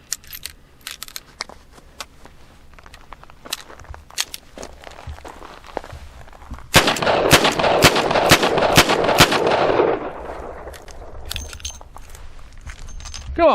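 A Rock Island Model 200 .38 Special revolver fires six rounds in a loud, closely spaced string of sharp reports. Quieter handling clicks and shuffling come before the shots.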